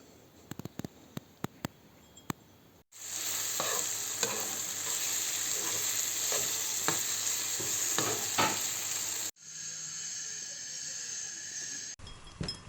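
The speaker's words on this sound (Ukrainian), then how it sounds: "Це гриби, які ми вчора назбирали. Зараз будемо смажити." Steady loud sizzling of wild-picked mushrooms frying in a hot pan in the Carpathians, with a few sharp clicks at the start and the hiss shifting tone near the end.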